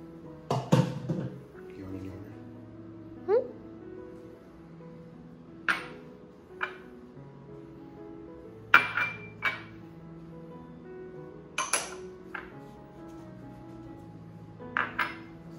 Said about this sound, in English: we're just gonna start off mixing everything together